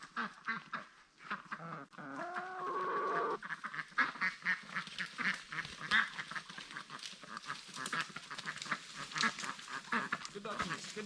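Ducks on an off-grid homestead quack and chatter in a close, busy flock, rapid nasal calls tumbling over one another, with a person talking softly over them at the start.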